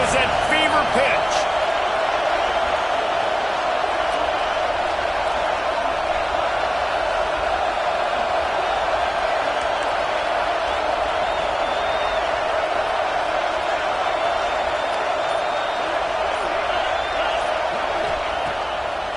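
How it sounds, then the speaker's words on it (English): A football stadium crowd at Michigan at Nebraska roars in a sustained wall of noise during a red-zone third down, with a commentator talking over it. "this crowd is at fever pitch"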